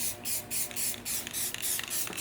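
A can sprays paint in repeated short bursts, about eight hissing puffs with brief gaps, close by and alone, laying yellow paint through a taped stencil onto a ranch fire truck.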